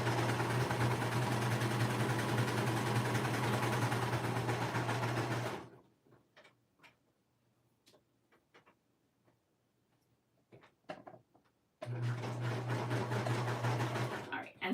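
A sewing machine stitches fabric in two loud, steady runs of humming buzz, close by, with a quieter stretch between them filled with light clicks and handling noises.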